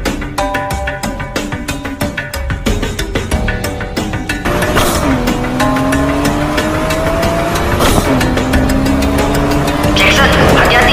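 Racing cars speed past in an anime street race, engines droning with rising and falling pitch sweeps as they pass, loud and continuous over a background music score.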